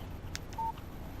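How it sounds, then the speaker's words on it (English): A phone in the video game Alan Wake gives a single short electronic tone to signal an incoming text message. The chime is brief and fairly clear over quiet background ambience. "Text message from Barry. He says hi to you too."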